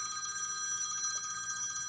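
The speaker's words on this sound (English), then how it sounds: "Uh-oh, that's Jean's phone" A mobile phone rings indoors with a steady electronic ringtone, continuous and fairly quiet, with no one talking over it.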